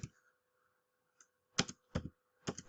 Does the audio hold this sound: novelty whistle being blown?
no